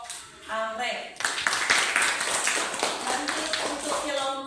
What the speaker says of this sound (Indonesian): Tepuk tangan untuk kelompok Anggrek.